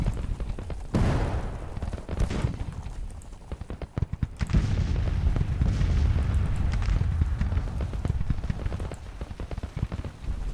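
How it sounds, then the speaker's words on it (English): Artillery and musket fire rumble through a Grand Tactician: The Civil War battle at Bull Run, with dense overlapping booms and crackling volleys, loud and continuous without talk. "The artillery can continue just firing."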